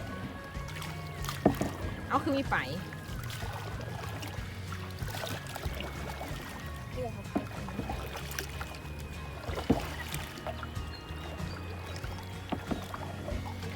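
A canoe is paddled on water, with splashes, drips and knocks of the paddle heard near and fairly soft, while people talk casually over the water sounds throughout.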